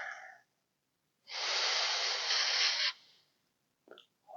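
A single deep breath drawn in and slowly let out, close and steady for about a second and a half, followed by a brief faint breathy sound.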